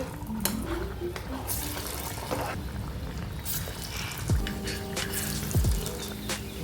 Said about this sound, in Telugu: ఇప్పుడు ఆయిల్లో వేసేసుకుందామండి